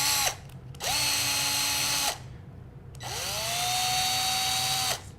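A power drill with a bit reams out the 1.75 mm center hole of 3D printer filament, whining in three separate bursts with short pauses between, close by and steady in pitch.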